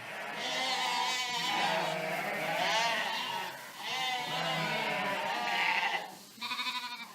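Lambs and ewes bleat on an Aveyron sheep farm, a near, continuous chorus of overlapping wavering calls with short gaps between bursts.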